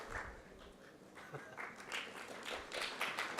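A conference audience at a general-practice medical congress breaks into a short burst of scattered clapping as a show-of-hands vote, fairly faint and distant, rising slightly toward the end.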